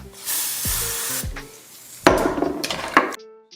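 Two short bursts of hissing aerosol hair spray on a wig, close by, mixed with light clattering and knocking of objects being handled.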